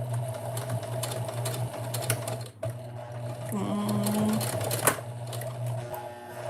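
Sewing machine back stitching while learning to sew, a steady mechanical whir with rapid needle ticks running throughout, a brief pause and restart midway, with faint background noise.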